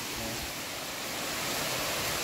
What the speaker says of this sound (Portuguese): Cachoeira do Carvoeiro.